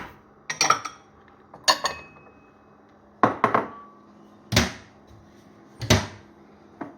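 A small china plate and bowl handled in a home kitchen while making lemon and lime marmalade, five or six separate sharp clinks and clatters of crockery, close by, spaced about a second apart.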